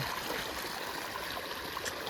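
A soft, continuous rush of motor-pumped water flowing through an irrigation channel into a wheat field at night runs steadily throughout, fairly quiet and even, with no voices.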